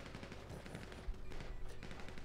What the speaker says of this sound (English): spraying him with a machine gun